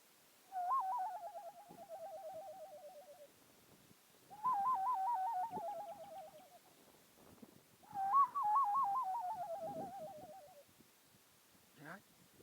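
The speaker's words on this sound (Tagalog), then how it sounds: "titingin ako dito sa puno ng kahoy kung may ibon ba ditong tumutunog." A bird calls from a tree in three long warbling, hooting phrases with pauses between them, fairly clear against a quiet background.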